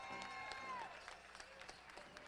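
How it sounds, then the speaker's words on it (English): Audience applause at an intertribal pow wow honoring a flag carrier, heard as a faint, distant patter of clapping that fades slightly after the first second, with a thin whistle-like tone early on. "How about a round of applause for Robin Russell?"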